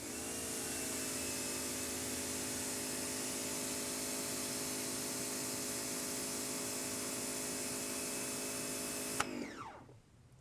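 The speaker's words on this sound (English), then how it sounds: "All right, 60-degree nozzle on the EVA," An AVA pressure washer fitted with a 60-degree nozzle sprays in a steady, loud hiss over a constant motor whine, running unbroken for about nine seconds before cutting off abruptly, with no talking.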